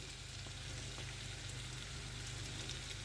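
Pasta being stirred and lightly fried in a pan, a steady close hiss of sizzling oil with faint scraping stir noises, no talking.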